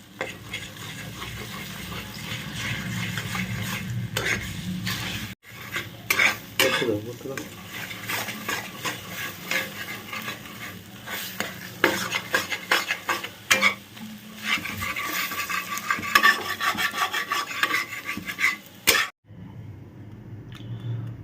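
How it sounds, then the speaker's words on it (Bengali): Scrambled egg is stirred in a hot pan, with a spatula scraping and tapping busily over a continuous sizzle and a couple of brief pauses. "এরকম করে নাড়তে থাকবে, দেখবে ওটা পুরো ঝুড়ো ঝুড়ো হয়ে যাবে।"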